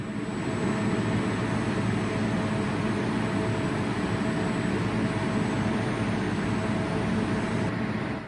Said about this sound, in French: Les avions de chasse vont entrer en jeu avec un bombardement intensif.